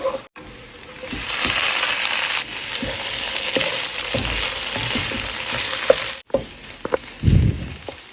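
Onions and garlic sizzle steadily in hot oil for tempering greens, a dense frying hiss with scattered clinks and scrapes from a utensil and a short break midway.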